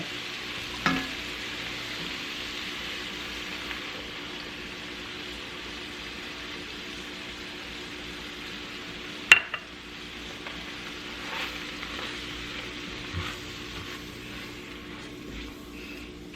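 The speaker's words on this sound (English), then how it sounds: "the celery and the onions been cooking for another 5 minutes" Celery and onions frying in a pan give a steady, low sizzle throughout, with a few brief clinks from a utensil against the pan along the way.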